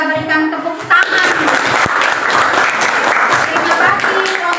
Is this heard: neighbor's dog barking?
no